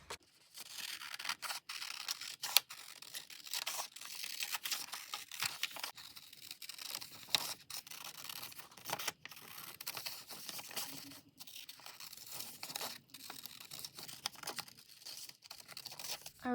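Scissors trim neatly around a printed paper letter, the paper crinkling and snipping in soft, irregular cuts close by, quiet and steady with no talk.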